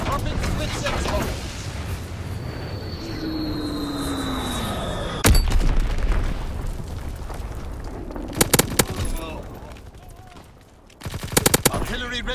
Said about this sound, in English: Dropping Blitzex bomb.